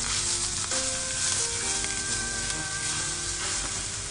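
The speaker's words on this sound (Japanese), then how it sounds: "もうこれを ささっと炒め合わせて" Long green onion and bonito flakes stir-fried in hot oil give a steady, close, loud sizzle that holds without a break, with faint scraping of the pan.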